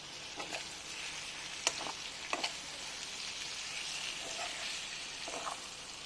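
Steady sizzling of pork frying in its own rendered fat, with a few sharp pops and spatters over the continuous crackle.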